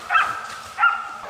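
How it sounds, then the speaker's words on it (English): Hunting hounds barking during a wild boar hunt near crop fields: two distinct barks about 0.7 seconds apart, moderately loud and somewhat distant, with no talking. "The barking of the hounds signaled that the target was getting close."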